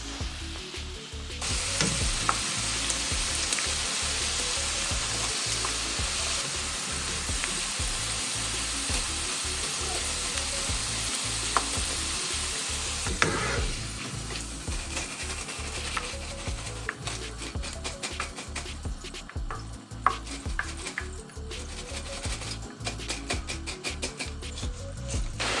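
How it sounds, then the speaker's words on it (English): French fries deep-frying in hot oil for Kenyan smocha, a steady loud sizzle and crackle running the whole time with occasional clinks of utensils, no voices. "So just take them out and fry the rest of your fries."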